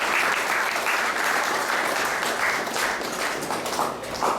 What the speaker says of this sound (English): Let's go round of applause for Naru Gopal Prabhu for a wonderful class.